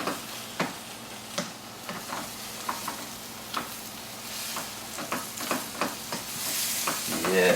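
Cajun shrimp sizzle in a pan with a continuous crackling fry, punctuated by repeated clinks and scrapes of a utensil turning them, the hiss swelling louder toward the end.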